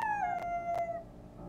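A dog howls in the survival video game 7 Days to Die: one long, falling howl that fades after about a second, heard alone and fairly close with no talking.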